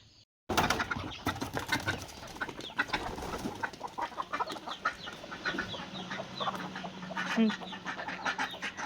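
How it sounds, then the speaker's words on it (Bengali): A busy outdoor mix of duck quacks and clucking fowl as ducks are let out on a foggy village morning, steady and close after a brief quiet start, with faint voices underneath. "আর এই যে হাঁসগুলো ছেড়ে দিয়েছে হুমাইরা"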